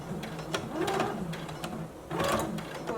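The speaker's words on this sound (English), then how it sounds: "So I'm going to begin sewing." A sewing machine stitching a bag seam with a quarter-inch allowance, heard as quiet, uneven bursts of mechanical rattling and clicking that start and stop in short runs, fairly close but soft.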